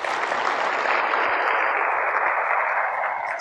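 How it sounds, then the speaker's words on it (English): A conference audience at AWS re:Invent applauds the finalist teams of a grand challenge, giving a short burst of dense, even clapping that runs loud throughout. "Let's give them a round of applause."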